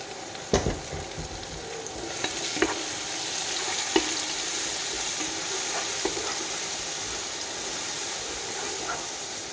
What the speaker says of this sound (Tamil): இப்போ நம்ம அரைச்சி வச்சுருக்க சின்ன வெங்காயமும் பச்சை மிளகாய் பேஸ்ட்டு சேர்த்து நல்லா பச்சை வாசனை போகிற அளவுக்கு வதக்கி சேர்த்துக்கலாம்.